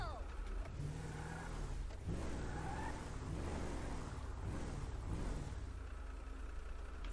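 A car in the video game GTA 5 driving along and pulling over to park, its engine revving and droning steadily at moderate loudness while someone talks over it throughout.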